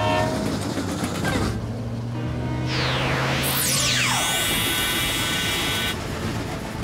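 Cartoon train rolling along rails with a rumbling clatter, then loud horn or whistle tones sweeping up and down over the running noise, continuous and fairly close with no talking.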